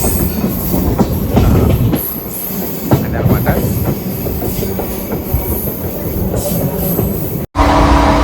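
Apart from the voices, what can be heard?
passenger train running over track switch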